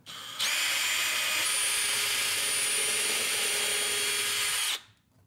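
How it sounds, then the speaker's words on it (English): A power drill bores a pilot hole for a garage shelf, one steady, loud high whine lasting about four seconds before cutting off abruptly. "Let's pilot hole this thing."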